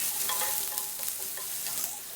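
Ginger garlic paste sautéing in hot oil for Chettinad chicken gravy, a steady close sizzle with soft scraping stirs and small crackles throughout, no voices.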